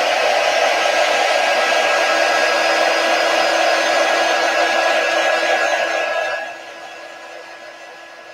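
A hair dryer blows steadily and close to dry chalk paint on a chalkboard sign, running loud for several seconds before dropping to a softer setting near the end.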